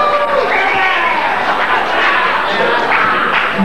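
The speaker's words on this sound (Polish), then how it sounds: "Wielkie brawa, formacja Impuls." Audience applause at a 2001 national dance tournament in Chodzież, honouring a formation dance team, a steady broadband crowd roar of clapping and cheering lasting throughout with a voice over it.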